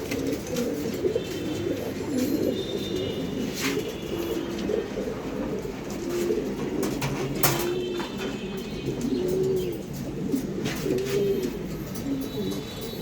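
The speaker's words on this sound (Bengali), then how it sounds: "অনেক কবুতরই আছে, দেখেন" Many pigeons coo steadily in a loft, overlapping throaty calls rising and falling close by, with occasional sharp clicks and rustles among them.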